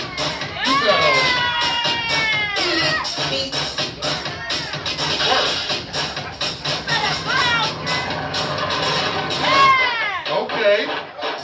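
Near models on a hair show runway, a lively crowd cheers and shouts continuously, with high whoops and excited voices through the whole stretch, loud and close, under a host's amplified speech.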